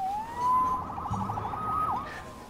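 A police siren from the Spider-Man PS4 video game wails in a rising, sweeping tone for a few seconds, loud and close, with a brief pitch dip near the end and a low rumble underneath.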